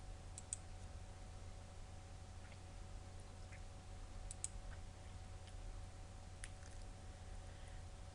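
Computer mouse clicks, faint and sparse, tick at irregular intervals over a low steady hum in a quiet room while menus are worked in Flash.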